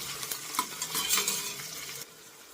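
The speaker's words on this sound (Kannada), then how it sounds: "ಕ್ಯಾಪ್ಸಿಕಮ್ಮು ಅದನ್ನು ಸ್ವಲ್ಪ ಹೊತ್ತು ಫ್ರೈ ಆಗಲಿ" Capsicum fries in hot oil while being stirred, giving a brief close sizzle with several quick scraping strokes against the pan before it quiets, and no voices.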